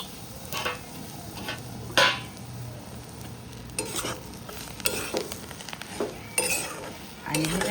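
Fresh green chickpea thecha is stirred and sautéed in a pan, a spoon scraping and clattering against the metal in irregular strokes over a soft, continuous sizzle.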